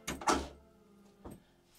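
The bathroom shower door in a Rapido M96 camper van on a Mercedes base slides and clacks shut with two quick knocks, then a softer bump a second later, close and alone.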